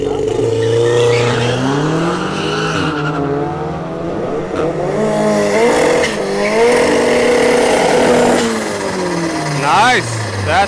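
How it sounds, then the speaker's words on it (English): A drag racing car does a smoky burnout at a drag strip during a night meet, with engine roar and tire squeal rising and falling under continuous commentary. "you get a nice smoky burnout"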